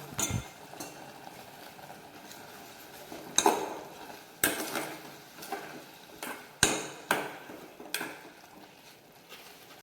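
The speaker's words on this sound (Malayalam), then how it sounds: "ഇളക്കി കൊടുക്കാം" A spoon scrapes and knocks against a pan while a grated coconut mixture is stirred, producing irregular sharp clinks and scrapes over a quiet background.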